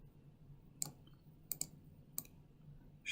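Sharp mouse clicks at an uneven pace, about five of them, over a low steady hum while a logo is traced on a computer; close and fairly quiet, with no talking.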